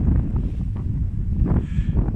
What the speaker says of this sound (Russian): Ветер, как всегда.